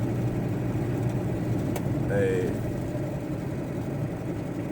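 A van with a water leak and a faulty switch idles close by, a steady, even engine drone running unchanged the whole time.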